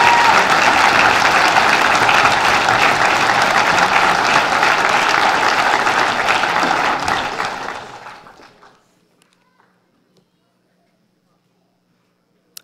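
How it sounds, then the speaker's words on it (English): Audience applause for award recipients at a police merit awards ceremony, a loud, full round of clapping from a large crowd that holds for several seconds, then fades out and leaves near silence. "another round of applause to all of those who have received awards tonight"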